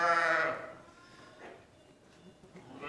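Dairy ewes bleat in a lambing pen in August, one loud, drawn-out call up close at the start, then quieter pen noise with a faint, distant bleat near the end.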